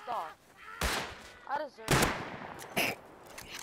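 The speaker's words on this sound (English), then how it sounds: "now I'm getting shot by another house" Gunfire from the survival video game Rust: several sharp, loud shot bursts spaced unevenly across a few seconds, with a player's voice talking in between.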